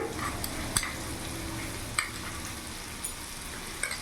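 Ginger-chili paste and chili powder are stirred in a frying pan for a vegetarian banana-flower kofta curry, with a soft continuous sizzle and a few sharp scraping clacks of the spoon. The sound is close and quiet, and no one speaks.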